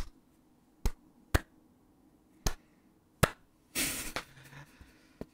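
Slow, sparse snaps or claps, five sharp isolated hits spaced irregularly, followed by a brief rougher burst of noise, a person mimicking a drum beat by hand.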